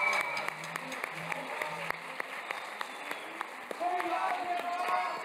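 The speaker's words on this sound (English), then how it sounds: "Big round of applause to all of them." An audience applauds at a 2024 graduation closing ceremony, with sustained, dense clapping from a crowd in a hall that carries on steadily and swells slightly near the end.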